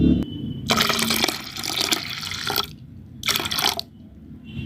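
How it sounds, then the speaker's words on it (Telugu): Milk is poured into cooled dry fruit ragi malt, giving a close, steady liquid pour that runs for a couple of seconds, breaks off, and comes back in a second short pour. "ఇప్పుడు దీంట్లో పాలు కలుపుకోవాలి."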